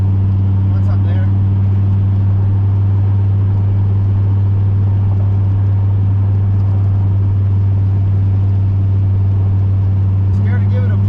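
Turbocharged Chevrolet Silverado pickup with a newly installed muffler, rumbling steadily and loud from inside the cab as it drives in the rain, a constant low drone throughout with a few faint voice fragments on top.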